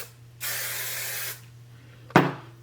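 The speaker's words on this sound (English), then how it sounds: "What I'm doing is spray my hair" Hairspray mists onto a wig in a steady, close hiss for about a second, then a short sharp click follows, with no talking.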